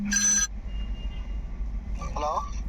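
A phone rings in two short bursts of electronic tones separated by a quiet gap, fairly close, over low background hum.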